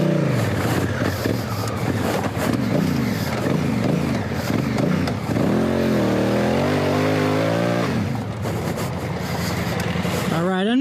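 A dual sport motorcycle on TKC80 tires rides through deep, soft sand, its engine revving hard and loud in rising and falling surges for about eleven seconds, with a brief dip toward the end.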